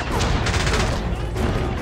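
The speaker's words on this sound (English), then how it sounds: "James, he's firing missiles." Missiles fire in the video game James Bond 007 Blood Stone, a dense burst of loud blasts and rumbling explosions in quick succession, with voices mixed faintly into the din.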